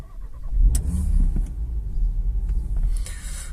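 A 2020 Audi RS3 fitted with a Starline i96v2 immobiliser fires up after its push-button sequence, a deep close engine rumble swelling from the start and settling into a steady low idle, with a few faint clicks over it.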